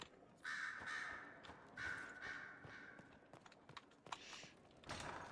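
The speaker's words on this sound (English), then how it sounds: "There's crows going all over the place. They're very loud and annoying." Crows caw repeatedly in a library area of the video game Dragon Age Inquisition, with two loud, drawn-out calls near the start followed by scattered clicks and softer caws against a busy game backdrop.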